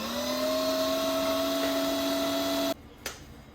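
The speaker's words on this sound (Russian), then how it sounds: "Все, друзья, прокрутим мясо через мясорубку." An electric meat grinder mincing beef runs with a steady high motor whine, then cuts off abruptly, followed by a brief clunk in the quiet.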